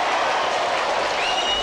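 A stadium crowd roars and cheers after a West Adelaide goal in a 1983 football match, a steady, broad wash of loud cheering with no break.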